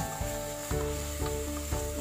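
Ginger garlic paste fries in a hot pan for dam vangibath, giving a steady close sizzle broken by soft stirring strokes about every half second.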